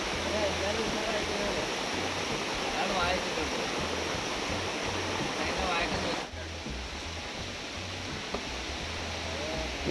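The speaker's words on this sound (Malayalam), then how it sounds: "നല്ല കിടിലൻ മഴ തന്നെയാണ്, ഒരു രക്ഷയില്ല." Heavy monsoon rain pours down steadily in a broad, even hiss during a flood, with rising floodwater nearby and a slight dip in intensity partway through. No voices are heard.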